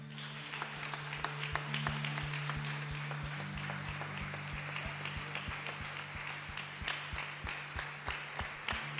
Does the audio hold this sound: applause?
yes